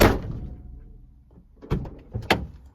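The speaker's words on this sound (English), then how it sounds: "it's got a quality door shut to it." The door of a 1995 Renault 5 1.4 shuts with one solid, close thunk, followed a moment later by a few lighter clunks and knocks.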